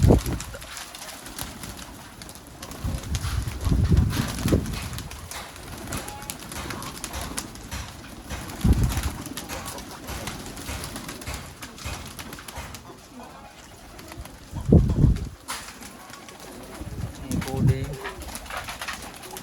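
Pigeons coo at their cages in Sri Lanka: several deep, throaty coo bursts come and go over a steady background hum, some loud and close, others softer.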